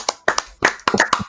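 A few people clap for the organizer of a 48-hour birthday bash: a sparse, uneven burst of nearby handclaps in four or five quick clusters, with no voices.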